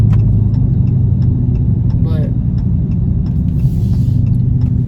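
A Dodge Charger Scat Pack engine rumbles steadily at low idle or cruise from inside the car, a deep continuous drone with light ticking, under a brief spoken word.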